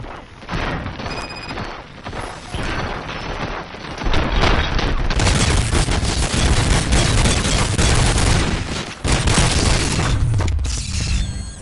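Gunfire fills a Robocop: Rogue City battle scene: rapid bursts of shots and booming impacts build into a dense, continuous barrage with crashes and mechanical clatter, loud and close, broken by brief pauses.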